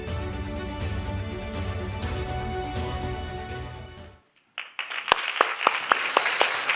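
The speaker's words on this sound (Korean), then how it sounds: "우리 주님께 큰 영광의 박수 올려드리겠습니다" Congregation at a Sunday church service breaking into applause after a sustained organ-like musical swell fades out, the clapping building into loud, dense, continuous crowd applause with a few sharper claps standing out.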